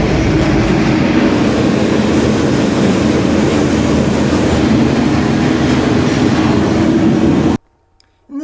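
A freight train rolling steadily near the Canadian border, a loud continuous rumble with rhythmic clatter from close by, cutting off abruptly near the end.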